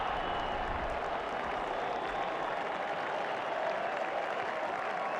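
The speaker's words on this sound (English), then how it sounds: "He's getting a polite round of applause as he makes his way to the pavilion." Steady crowd applause rings out at a cricket match in the PS2 game ICC Champions Trophy 2004 as a dismissed batsman walks off, sustained and even throughout with no talk over it.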